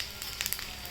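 Cumin seeds frying in a pan, a steady soft sizzle with small crackles and pops for about a second, quiet and close with no talk.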